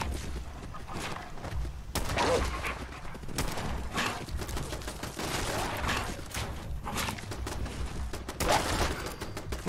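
Repeated gunfire bursts from an automated turret in the Fallout 76 video game, a busy stream of mid-distance shots layered with other game sounds over the full stretch.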